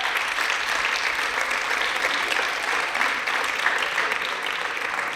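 Sustained audience applause fills a hall at a closing speech for the Atout Projet association, steady dense clapping from many hands throughout, fairly close and loud, with no talk over it.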